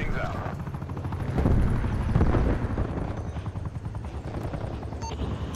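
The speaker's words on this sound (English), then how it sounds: "Attack helicopter available for tasking. TACOM, get an attack helicopter overhead now." An attack helicopter in Call of Duty: Cold War thuds steadily with a dense rotor chop, close and loud, mixed with gunfire and battle noise in a multiplayer match.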